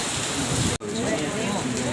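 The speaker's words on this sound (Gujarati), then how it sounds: "વરસાદ ચાલુ થઈ ગયો છે" Steady rain patters at Takhateshvar Mahadev Temple, a dense continuous hiss broken by one brief dropout, with voices faintly underneath.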